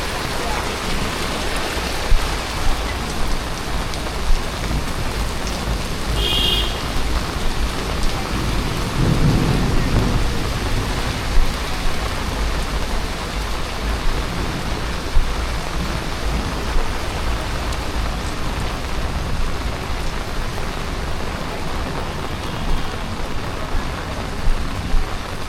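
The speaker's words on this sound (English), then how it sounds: "Whole heap of rain." Heavy rain pours on a street in Montego Bay, Jamaica, with water running into the gutter: a loud, constant hiss that holds for about 25 seconds, with a brief low rumble near the middle.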